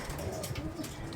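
Pigeons coo softly at feeding time in a racing-pigeon loft in Kirkuk, low rounded calls repeating under a steady rustle and hum of background noise.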